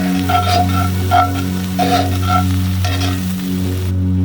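A mixture sizzling steadily in a hot pan while it is stirred, with a loud, close frying hiss and repeated scraping strokes every half second or so, no voices.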